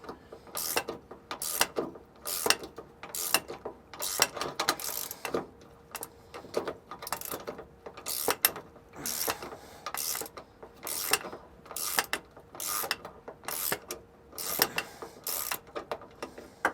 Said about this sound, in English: So I have a 13 millimeter, or you can use a 1/2 inch socket and wrench, and remove these 2 nuts.